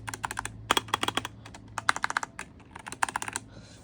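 Rapid clacking keystrokes on an Apex Pro TKL mechanical keyboard, close and fairly quiet, in uneven bursts with brief pauses between runs of typing.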